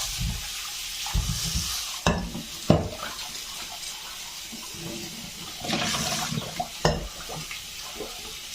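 Used utensils and dishes washed under running water at a kitchen sink, with a steady flow of water, splashing, and several sharp clatters and knocks of items being handled, close by and without talking.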